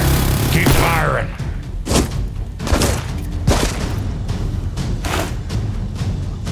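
Gunfire rings out in a Fortnite battle, with several heavy booming shots bursting at uneven intervals, loud and close, and a brief voice near the start.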